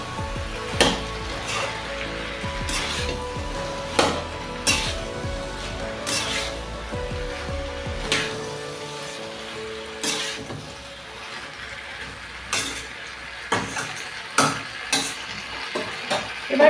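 Chicken with fresh garden coriander leaves and kohlrabi sautéed in a pot, a steady close sizzle broken by repeated scraping stirs of a spoon against the metal, with occasional clinks.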